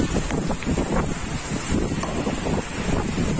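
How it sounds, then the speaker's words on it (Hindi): Strong gusting wind with heavy rain in a storm, the downpour blowing in under shelter; a dense, continuous roar of wind buffeting and rain close by, steady and loud throughout with no voices. "दोस्तों आज देखो काफी तेज बरसात आ रही है आंधी के साथ"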